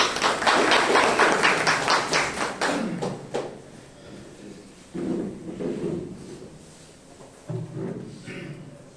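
Audience clapping at an in-house school staff training session, a dense burst of applause for the first few seconds that thins out and fades, followed by muffled thumps and faint voices.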